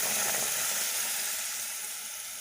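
Batter of black urad dal flour, ground with cardamom, is poured into hot oil and sizzles loudly and steadily up close. The frying hiss is continuous and fades slightly toward the end, with no talking.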